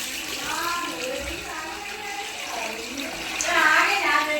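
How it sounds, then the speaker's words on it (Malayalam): Water being poured into a large pot of rice for a 2.5 kg chicken dum biryani, a continuous splashing pour that grows louder near the end, with a voice talking faintly underneath. "അരി വേകാൻ ആവശ്യമായ വെള്ളം നമ്മൾ ഒഴിക്കുകയാണ്"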